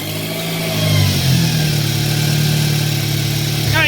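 A repaired 2008 Chevrolet Cobalt engine runs steadily at close range after a crank-no-start fix, a loud, even idle with a slight rise in revs early on and a faint squeak near the end.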